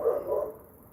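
Dogs barking in an Australian backyard, a short burst of loud barks early on that fades quickly into a quieter tail, with nobody speaking.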